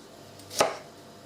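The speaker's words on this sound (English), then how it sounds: "And we're going to chop these up." A single close, sharp knife chop through fruit on a cutting board while preparing mince pie filling, one crisp strike standing alone against a quiet kitchen.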